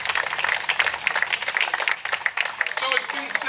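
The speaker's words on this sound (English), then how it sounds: "let's give our district attorney, Mike Kane, another great big round of applause" An audience at a community National Night Out gathering applauds district attorney Mike Kane, sustained clapping from a crowd, fairly close, with voices mixed in beneath it.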